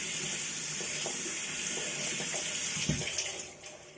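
Lukewarm water running steadily from a bathroom tap during a skincare routine, a constant close hiss and splash with a few handling knocks near the end.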